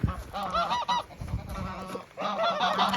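Male goose giving repeated loud, harsh honks close by, in bursts with short pauses between calls.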